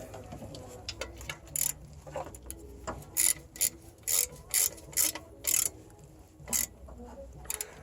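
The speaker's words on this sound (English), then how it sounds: "Where's the little ratchet, Oscar?" A small ratchet wrench tightens a subframe bolt on an MK3 car, giving roughly ten quick, close bursts of rapid clicking separated by short pauses over faint workshop background.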